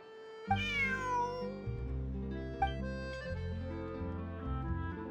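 A cat meows in a few bright, rising calls over a continuous bed of layered music, with no talking.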